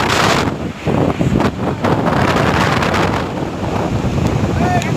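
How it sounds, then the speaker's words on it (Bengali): Strong seashore wind gusts buffet the microphone in a constant roar at a river mouth, with the wash of surf blending into the blustery noise. "বাতাস উঠেছে।"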